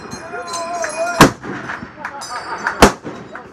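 Two sharp M1 Garand rifle volleys ring out about a second and a half apart, loud and close, with faint outdoor background between them.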